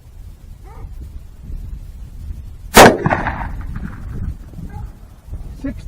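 .44 Magnum revolver fired with 200-grain XTP handloads over Accurate-9 powder: one sharp, loud shot cracks out near the middle, followed by a ringing decay over quiet outdoor background with faint noises.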